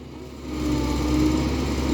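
A backhoe excavator's diesel engine runs steadily nearby, a low rumbling drone that rises slightly in level partway through, with no voices over it.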